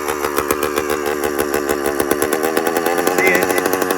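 A 100cc motorized bicycle engine runs loud and close, a fast rattling buzz whose pace wavers slightly as the RPM fluctuates.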